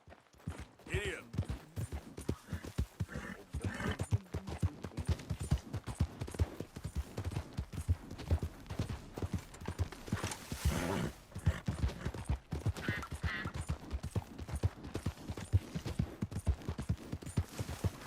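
Horse hooves clip-clop in a steady rhythm throughout Red Dead Redemption 2, close and clear as the mare trots on, with someone speaking softly to her over the hoofbeats.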